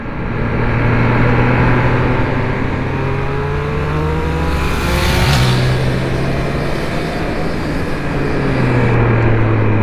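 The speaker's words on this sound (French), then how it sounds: "Quand tu arrives dans les hauts régimes et que la moto se réveille," A Triumph Speed Triple 1200 motorcycle engine is held at high revs, a loud, continuous, close-up roar with rising and falling tonal sweeps as the revs shift, with no voice over it.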